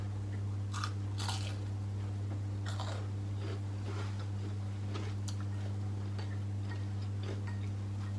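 Crispy battered and fried Dryad's saddle mushrooms, steamed before frying, bitten and chewed close up, giving a run of sharp crunches and crackles over a steady low hum, with no talking.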